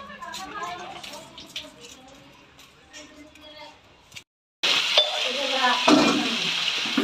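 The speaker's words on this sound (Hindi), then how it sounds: "पहले जो है मैं इस आलू को फ्राई करूंगी" Potatoes frying in oil in a home kitchen, a steady broadband sizzle rising loudly after a brief silence, with a voice talking over the cooking earlier.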